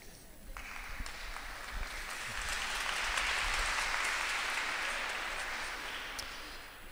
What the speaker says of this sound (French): Les Toulonnais sont sympas parce qu'ils ont applaudi aussi